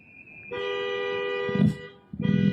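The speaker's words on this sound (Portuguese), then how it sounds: "Seguem buzinando, agora tem vários carros vindo." Car horns honk on an icy street, one long steady blast lasting nearly two seconds followed by a second loud honk starting after a short pause, with a bump of engine or road noise between them.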